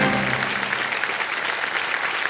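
Studio audience applauding on the Hindi quiz show Kaun Banega Crorepati after a contestant answers correctly, a dense, steady clatter of many hands, loud and close, lasting throughout.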